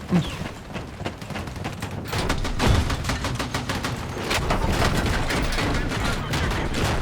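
Heavy sustained gunfire in the Battlefield 6 open beta, dense overlapping rifle and machine-gun bursts with booming impacts, loud and continuous, with a voice faintly under the din.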